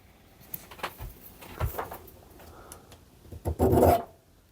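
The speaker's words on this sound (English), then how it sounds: "we're going to see how hard this is to file. It's stainless steel, so we'll give it a go." A metal file rasping across a stainless steel part, a few scattered scrapes and then a louder, denser burst of strokes near the end, close and with no talking.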